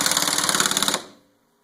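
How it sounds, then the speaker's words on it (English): An impact gun hammers a nut down onto a replaced wheel stud, a rapid loud rattling burst lasting about a second at close range, then cutting off and fading to silence. "Impact gun, tighten it down."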